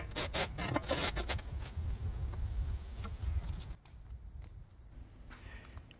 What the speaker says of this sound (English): I put the screed on an angle to try to move the sand more to the center away from the edge